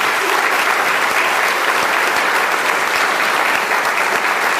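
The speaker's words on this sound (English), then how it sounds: "Give them all another round of applause" A large audience at a Teacher of the Year 2023 awards ceremony gives sustained, loud, even applause for the nominees and finalists, with steady dense clapping throughout and no speech.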